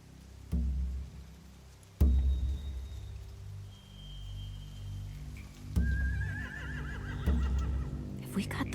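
Horses neigh and whinny in The Walking Dead video game, with occasional sharp thuds and hoof sounds over a low ambient rumble and game voices.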